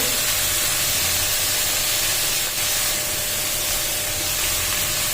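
Vegetables hissing and sizzling steadily in hot oil in a pan while cooking khichuri, a loud, continuous broadband spray-like sizzle with no pauses.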